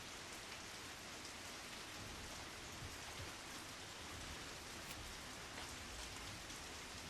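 Steady rain pours onto cobblestone streets in a video game, a dense, even hiss of drops that carries on without pause for the whole stretch, with no voices over it.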